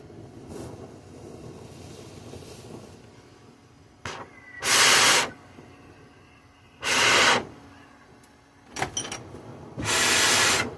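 Glassblowing torch working a Pyrex pipe to blow a carb hole gives three long, loud bursts of roaring hiss, each about a second, over a quieter steady torch hiss with a few brief sharp puffs between.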